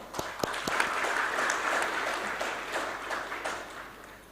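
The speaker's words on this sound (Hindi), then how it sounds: "रक्तदान करने वालों के लिए ताली पहले तो" An audience at a volunteer engagement event applauds blood donors with steady, dense clapping that fills the room, lasting a few seconds before gradually thinning out.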